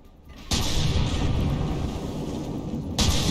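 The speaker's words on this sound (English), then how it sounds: "Oh, and there goes one of the Richelieu's turrets. Blasted by a cram cannon." A cram cannon blast in the naval combat game From The Depths destroys a battleship turret with a sudden loud boom that swells into a sustained rumbling roar, and a second burst hits near the end.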